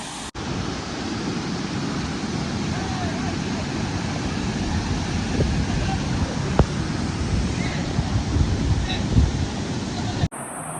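Daryaghat waterfall and river water rush in a steady, broad roar with wind buffeting the microphone, continuous and fairly loud throughout.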